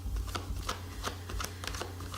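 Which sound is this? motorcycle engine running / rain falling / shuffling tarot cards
shuffling tarot cards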